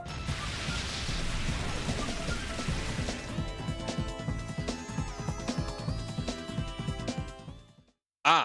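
Rain from the Rain Dance move in Pokémon XD pours as a dense, loud hiss with sharp splashes, thinning into scattered drops and tones before a brief silence and a final burst.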